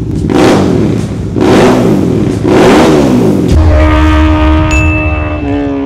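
A Suzuki V-Strom 650's 650cc V-twin engine with a GPR aftermarket exhaust revs hard several times in loud, rising, throaty bursts, then settles into a steady idle hum.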